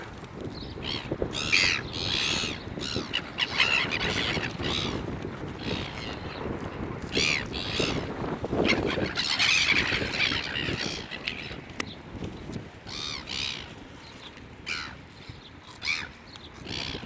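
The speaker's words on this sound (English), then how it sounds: "See, that seagull's fighting like a man." Seagulls squawk and cry repeatedly nearby in harsh, overlapping calls, with wind noise and rustling underneath throughout.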